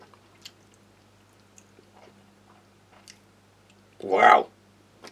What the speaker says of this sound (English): I'm having trouble even biting through that.